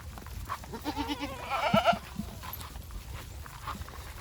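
Goats bleat a few times in quick succession nearby, amid outdoor rustling and faint background noise.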